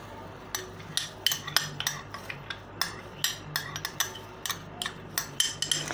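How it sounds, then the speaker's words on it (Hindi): Rapid metal whisk strokes clinking against a bowl while beating egg for ras malai, a steady run of sharp taps close by with no talk. "ये बहुत अच्छी तरह विस्क होना चाहिए, बहुत अच्छी तरह फेंटा हुआ होना चाहिए अंडा"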